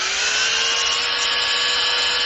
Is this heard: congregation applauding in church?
no